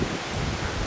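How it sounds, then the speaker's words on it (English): Steady wind noise roars across the microphone with a rustling, gusty texture, fairly loud and continuous throughout. "it's pretty windy"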